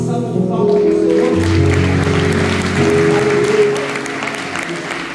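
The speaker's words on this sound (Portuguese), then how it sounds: "Podemos dar uma salva de palmas para o Senhor?" Congregation applauding at a Sunday family church service, a dense burst of clapping that swells and holds for several seconds before easing off, with a voice speaking over it.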